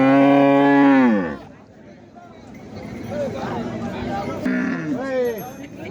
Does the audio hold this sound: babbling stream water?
no